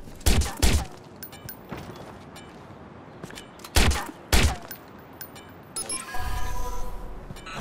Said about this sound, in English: He's shooting! Help!